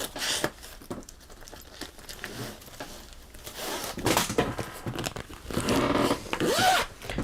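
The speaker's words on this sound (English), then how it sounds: "My chair's making all kinds of noise, you guys." An office chair creaks and rubs during a live craft show, with scattered scraping and rustling bursts that grow louder and denser toward the end, close to the microphone with no speech.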